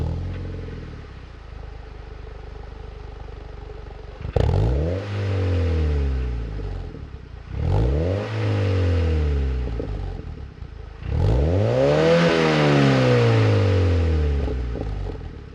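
Mazda MX-5 NC fitted with an HKS Liga Max Premium aftermarket exhaust, heard alone as three rising revs that climb and fall back to idle, each swell louder and longer than the last, loud and close.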